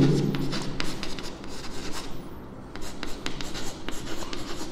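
A pen scratches steadily across paper in short, busy strokes during a classroom maths lesson, close and fairly loud, with no talking while the writing goes on.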